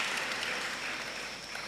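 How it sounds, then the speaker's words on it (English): Steady, dense audience applause at a university inaugural lecture honoring performers, an even wash of many hands clapping, moderately loud and continuous with no voices. "Please let's give another round of applause to Dr. Aristis Hago and his team of performe"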